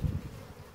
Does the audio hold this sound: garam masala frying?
no